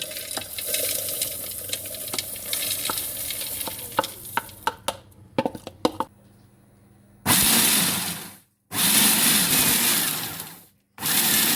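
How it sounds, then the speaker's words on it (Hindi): Loud electric chopper motor whirring in several long bursts, stopping and restarting, coarsely grinding flax seeds, after a stretch of scraping and clattering. "मिक्सी के जार में या चॉपर में से मोटा दरदरा सा हम इसे पीस लेंगे"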